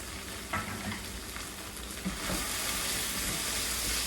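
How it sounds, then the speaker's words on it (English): Shepherd's pie filling sizzles steadily in a pan while flour is stirred in, with a continuous frying hiss and a few soft utensil scrapes up close. "Mix this in until all the flour is absorbed."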